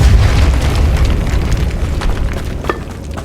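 A Depulso spell blast goes off in a Hogwarts video game as a loud, booming burst with a rumbling low end that decays over a few seconds.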